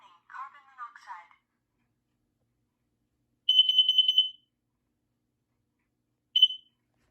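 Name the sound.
Kidde carbon monoxide alarm beeping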